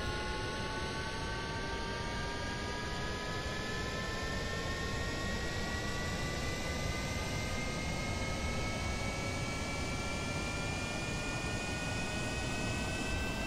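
Two stacked planes take off together in Kerbal Space Program, a loud, continuous jet engine roar with steady broadband rushing and slowly rising whining tones, unbroken throughout with no voices.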